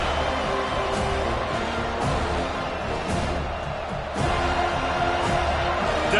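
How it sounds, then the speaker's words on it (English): Football stadium crowd roaring steadily through a defensive third down, a dense wash of cheering that swells slightly toward the end, heard at a distance and without a break. "Decibels rising as the crowd gets behind this defense on 3rd down"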